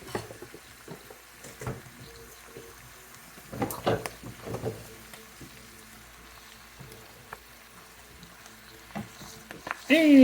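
Spinach leaves sautéing in a pan while being turned and stirred, soft sizzling with intermittent scraping and stirring bursts, quiet and close, under a talking voice.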